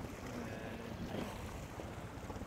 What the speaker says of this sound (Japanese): 風がすごいね。 うん、風強いな。